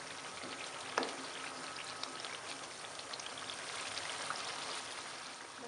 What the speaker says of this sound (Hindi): इसे भून लेंगे मसाले को। थोड़ी देर ऐसे ही भूनेंगे